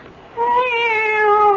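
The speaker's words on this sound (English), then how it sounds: "It's the cat. She's back." A cat meows once in a long, drawn-out, slightly falling cry that starts after a short pause, close and clear, with no talk over it.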